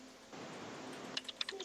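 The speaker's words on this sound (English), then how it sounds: "I hear typing." Fast keyboard typing clicks out of a quiet room tone, a handful of sharp keystrokes in a short burst near the end, close and fairly soft.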